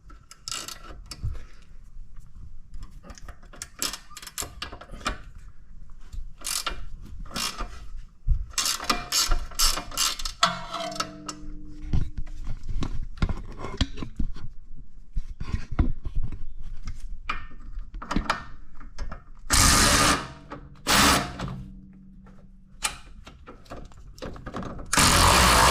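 Ratchet clicking repeatedly while removing the upper control arm bolt at the spindle of a Tesla Model Y, with a 15 mm nut and T55 Torx bolt; quick close pawl ratcheting in bursts, with occasional clanks and tool knocks, no talk.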